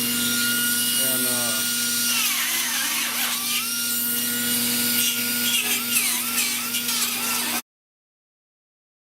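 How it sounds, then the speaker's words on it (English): Die grinder working on rusty car body metal near the front windshield, a loud steady high-pitched whine with grinding scrapes that rise and fall, ending abruptly; a voice is briefly heard. "So I'm gonna come in here with this die grinder"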